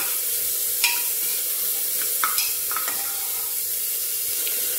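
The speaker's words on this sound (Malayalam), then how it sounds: "എല്ലാം ഒന്ന് പച്ചമുളക് ജസ്റ്റ് ഒന്ന് വാട്ടിയെടുത്താൽ മതി" Onion and green chilli sautéing in a pan while making a moong sprouts breakfast, giving a steady close sizzle with a few brief scrapes of a spoon stirring.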